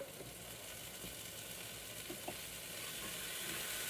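Chopped onions and a tablespoon of minced garlic sizzle steadily in a pan, a soft continuous frying hiss that swells slightly toward the end, with no talking.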